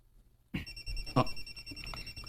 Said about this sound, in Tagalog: Uy, si Manang nanawag balik.